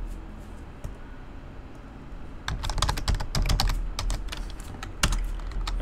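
Quick bursts of keystrokes on a computer keyboard, typed close by as a command is entered. A quiet start gives way to a few seconds of rapid clicking with brief pauses, with no talking.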